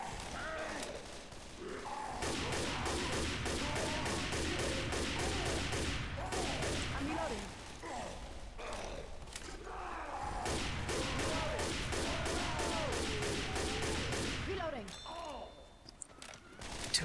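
Sustained gunfire in Left 4 Dead 2 as survivors shoot zombies and tanks, dense rapid rounds nearly nonstop and loud, easing briefly midway, with voices shouting over the shooting.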